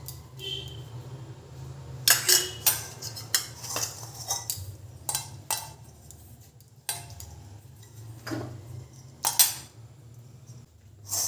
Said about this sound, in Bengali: এই বাটিটার মধ্যে অল্প একটু টক দই আমি মিশিয়ে নেব, মাখিয়ে নেব ভালো করে বাটিটাকে।